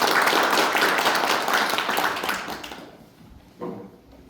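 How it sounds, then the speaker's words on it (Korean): Loud, dense applause from an audience fills the first few seconds, then dies away into quiet, followed by a single soft thump. "큰 박수로 모시겠습니다."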